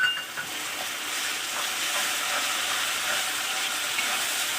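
Chicken pieces frying in oil with a blended spice paste in a Bengali-style chicken and jackfruit curry, giving a steady, close hiss and sizzle with faint stirring scrapes and no talking.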